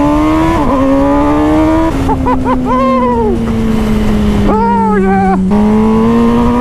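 2020 MV Brutale 1000 RR, a 208-horsepower super naked motorcycle, revving hard on the road: loud engine note climbing through gears with sharp pitch drops at each shift, close and continuous, with a brief exclamation from the rider.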